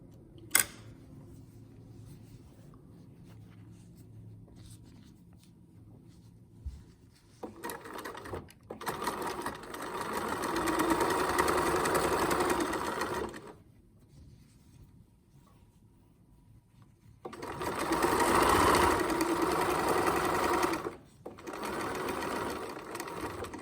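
A sewing machine stitches fabric for menstrual panties in bursts, with quiet pauses between runs and soft handling noises in the gaps, fairly close and clear.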